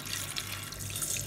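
Water pours steadily into bael fruit pulp being prepared for a shake, a close, continuous splashing trickle with no other sounds.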